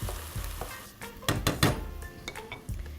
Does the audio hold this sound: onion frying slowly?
yes